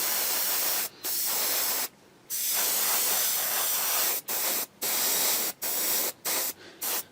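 An airbrush lays thin coats of paint on a 1/12 scale Bandai Boba Fett model, a loud, close, steady hiss that cuts off in short pauses between passes, with no talking.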